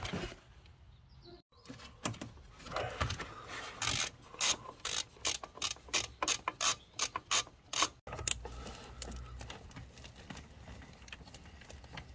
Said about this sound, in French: Donc ici, on va devoir dévisser cet écrou.